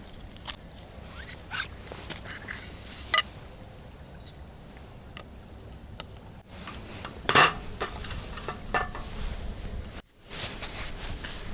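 A folding table being set up outdoors at a late-December winter feeder-fishing spot: a series of scattered clacks, rattles and a sharp metallic snap, fairly close, over steady outdoor background noise and no talking.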